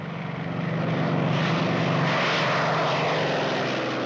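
Propeller engines of German WWII fighter planes, the ME-109 and Focke-Wulf 190, droning loud and continuous with a broad, rough roar that swells slightly and holds steady, with no talk.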